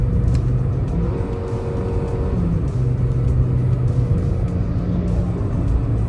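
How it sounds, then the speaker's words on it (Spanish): A small-engined 2021 Hyundai Grand i10 in third gear at full throttle climbs a slope, its steady strained drone holding loud and close throughout with no talk over it. "Y el vehículo sube sin ningún problema. Acelerador a fondo."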